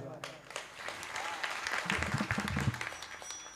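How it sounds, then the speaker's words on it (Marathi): An audience at a devotional kirtan gathering under a grand pavilion applauds, a brief dense burst of clapping swelling and fading over a few seconds, with voices mixed in. "एकदा या मंडपासाठी टाळ्या वाजवा"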